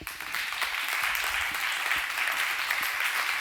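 An audience at an evening event on the energy transition applauds to welcome a guest, a soft, steady patter of many hands clapping at a moderate distance throughout.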